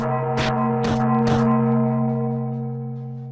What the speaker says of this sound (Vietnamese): lại gõ cái chuông nữa.